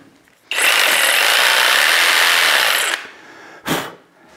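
A jigsaw cuts through drywall board for a bathroom niche, a loud steady buzzing run of about two and a half seconds, close by, followed by a brief second burst.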